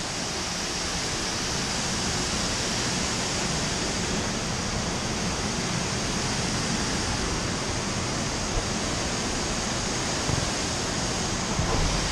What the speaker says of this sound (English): There's a cooling tower.